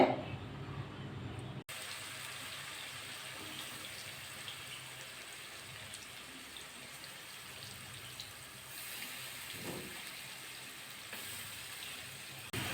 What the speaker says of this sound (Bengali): তেলটা গরম করে নিয়েছি আর চিকেনগুলো এভাবে তুলে তুলে চিকেনগুলো দিয়ে দেবো তেলের মধ্যে